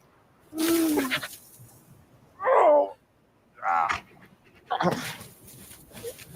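A dog, Krypto from the Superman trailer, gives short whimpering whines and panting bursts in separate close bursts with quiet gaps between them, and no one speaks.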